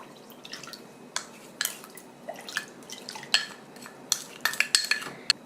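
A spoon stirs sugar into soy sauce pickle brine for chive pickles, clinking irregularly against the side of a bowl with soft liquid swishes between the close, sharp taps.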